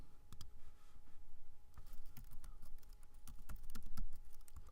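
Rapid, uneven clatter of keys on a computer keyboard as code is typed at a desk, close and fairly quiet, with bursts of quick strokes and brief pauses and no voices.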